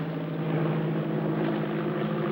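A propeller airplane engine drones steadily in flight, a low, even hum with a constant tone that holds throughout, close and moderately loud with no voices over it.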